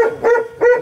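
A dog at an animal shelter barks twice in short, close bursts with a rough growling edge, heard alone with no voices.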